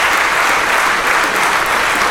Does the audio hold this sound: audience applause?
yes